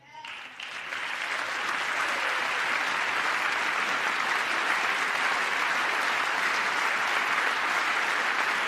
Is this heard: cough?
no